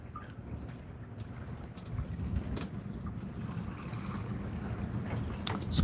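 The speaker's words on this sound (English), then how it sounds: "It's quite windy." Wind gusting across a boat anchorage in Fiji, a steady broadband rush that builds slightly louder toward the end, with no talk.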